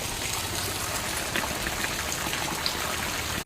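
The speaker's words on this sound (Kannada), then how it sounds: "ತುಂಬನೇ ಜೋರಾದ ಮಳೆ" Torrential rain roars in a continuous wash of water noise, near and loud, with a faint click at the very end and no one speaking.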